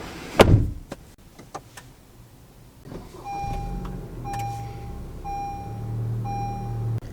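An Acura ILX car door closes with a sharp thud and a few clicks. Then a chime begins beeping in repeated evenly spaced tones over a low hum as the car powers on.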